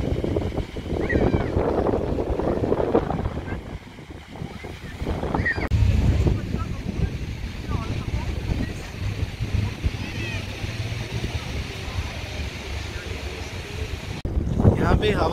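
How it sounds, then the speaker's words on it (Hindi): Strong wind at St Kilda beach buffets the microphone with loud, continuous rumbling gusts, with waves faintly beneath and someone talking through much of it. "अभी हवा बहुत चल रही है तो इसलिए आवाज़ थोड़ी ऐसे ही आएगी।"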